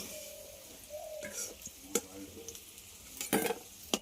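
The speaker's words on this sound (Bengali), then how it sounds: "এবার গুঁড়ি কচুগুলো ভেজে নেব।" Taro pieces fry in hot oil with a soft, quiet sizzle, broken by several sharp scrapes and clinks of a spatula stirring against the pan.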